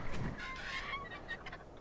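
A bird creature calls in Ark, a fairly quiet honking, goose-like cry that wavers over a couple of seconds against a soft game backdrop.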